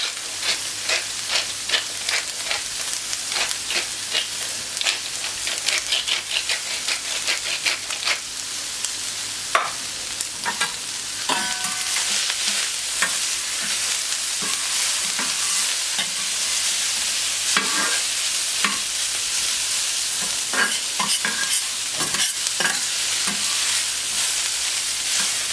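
Vegetables for a Catalan escalivada sizzle and fry steadily in a hot pan, with frequent scraping stirs and clatter throughout, close and continuous, no voices.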